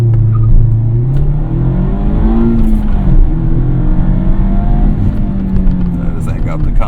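A 2020 Mazda Miata RF revs hard under acceleration toward 60, its engine note climbing and dipping through gear changes, loud and close from inside the car.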